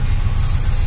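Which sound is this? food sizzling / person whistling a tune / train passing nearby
train passing nearby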